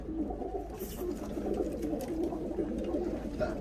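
Pigeons coo continuously at close range, a low, soft, overlapping murmur of several birds from a pigeon loft, with occasional faint rustles above it.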